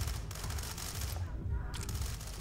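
A light machine gun in the tactical shooter Ready or Not fires a sustained, dense stream of shots, loud and continuous with a brief dip, under possible faint voices.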